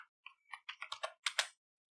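Keystrokes on a computer keyboard as a file name is typed, about nine quick taps in an irregular run over a second and a half, close and fairly quiet, with no talk.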